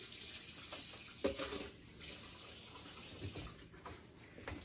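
Water runs steadily from a kitchen tap while hands are rinsed, a continuous close splashing rush with small shifts as the hands move under the stream.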